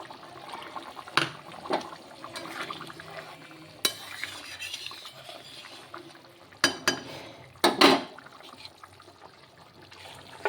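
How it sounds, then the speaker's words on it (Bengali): A spoon stirs a taro and snakehead fish curry with fried spices in a cooking pan, making soft, wet scraping and sloshing sounds with a few sharper clanks against the pan, close and intermittent over a quiet simmer. "আবার একটু নেড়ে চেড়ে দেবো।"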